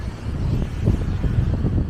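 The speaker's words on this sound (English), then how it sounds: "it's getting windy now." Low, blustery wind buffets the microphone in a continuous rumbling roar with gusty swells.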